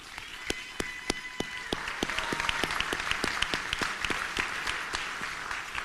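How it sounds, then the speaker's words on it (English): Audience applause fills a hall after a musical performance at Rochester's 2023 State of the City address, starting with a few distinct claps that swell into a steady, dense round of clapping from a large crowd. "Let's give them a round of applause."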